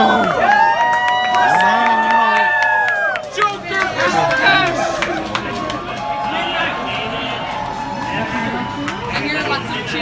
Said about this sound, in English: I hear lots of cheering.